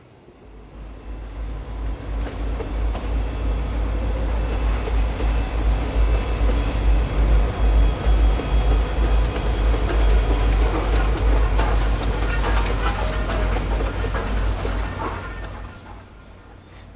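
A steam excursion train with private cars at its tail rolls past, a loud, steady rumble of wheels and rail clatter that swells, holds for most of the pass, then fades away.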